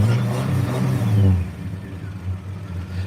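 A 1963 Dodge Dart engine revs up loud and close, its low rumble swelling for about a second before settling back to a steady idle.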